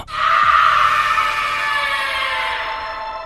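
A scream sound effect in a Hindi horror story, a loud sustained shriek that bursts in at once and holds for about three seconds over a low rumble, slowly fading toward the end.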